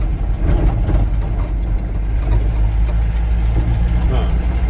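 An old Chevy tow truck with worn shocks driving along, its engine giving a loud, steady low drone and rumble heard from inside the cab, continuous throughout.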